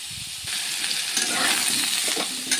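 Potato and young jackfruit fry together in hot oil, giving a steady, close, bright sizzle with soft stirring scrapes throughout and no voices.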